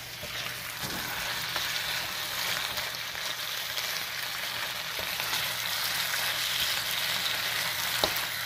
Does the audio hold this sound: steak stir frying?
yes